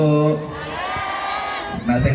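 An audience at a large Islamic religious gathering cheers and calls out for a hadroh group. Voices whoop and shout in a sustained, mid-distance crowd roar, with little distinct clapping.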